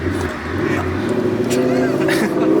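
A manual Mustang GT engine bogs on a rough launch, a low, labored drone that struggles and slowly builds, heard close up under a voice talking.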